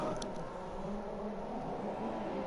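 A steady, faint hum of F1 2017 racing car engines at Monaco runs continuously at low level, without sharp revving peaks or clear passes, and no talk over it.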